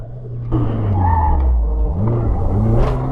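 Car skidding through an autocross course and clipping a traffic cone, engine droning loudly with a rising then falling tire squeal and scrub, close and continuous over about three seconds.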